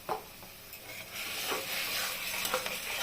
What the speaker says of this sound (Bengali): এখন মশলাটাকে ভালোভাবে কষাবো